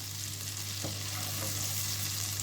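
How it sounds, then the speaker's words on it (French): Onions sauté in about thirty grams of butter in a pan, making a steady, even sizzle that holds throughout, close and fairly loud, with a faint scrape partway through and a low electrical hum underneath. "Donc on va faire revenir les oignons"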